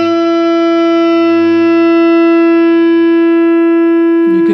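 A JOYO JF-14 American Sound guitar pedal at full drive holds one sustained, loud, distorted electric guitar note that stays steady and oscillates as if about to feed back, ending with a short noisy burst.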